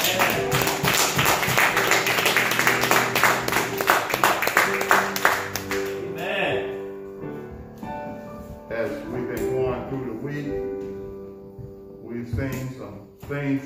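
Congregation clapping in praise during a church service, a dense burst of hand claps over organ or music for the first six seconds, then fading into sustained music with scattered voices.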